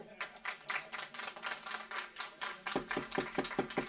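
Applause from the audience at a North Miami city council meeting, a quiet, distant patter of many hands that thins out into a few separate claps at the end.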